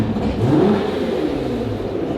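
2017 Aston Martin DB11 engine rumbling and revving, a deep steady drone that swells slightly early on, close and loud with no voices.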